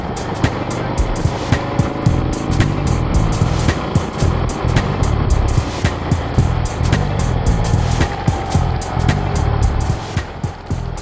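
Riding club motorcycles cruising along a road in Maryland, engines droning steadily with wind rush and repeated sharp clicks or bumps, fairly loud and close, no talk.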